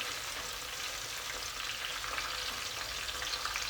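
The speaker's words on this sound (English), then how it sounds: "So I'll be letting it fry for, or allow it fry for a while." A Ghanaian okra stew base fries in a pot, giving a steady, dense sizzling hiss that stays even and close throughout, with no voices.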